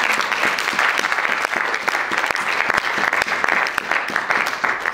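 A church congregation applauds the Lord, a steady, dense wash of clapping from a large crowd that stays loud and continuous throughout.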